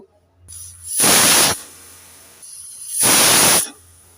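Two loud bursts of hissing, whistling steam from a pressure cooker cooking flat beans, each about half a second long, separated by a short quieter pause.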